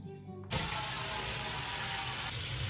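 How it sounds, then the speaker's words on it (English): A baking pan and wire rack from an air fryer oven being hand washed in a kitchen sink: a brief quiet handling moment, then the tap opens into a loud, steady rush of running water close by. "I hand washed the baking pan and wire rack"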